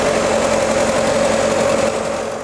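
A Toyota station wagon engine idling nearby, a loud steady mechanical hum with a faint regular pulsing throb that eases slightly toward the end.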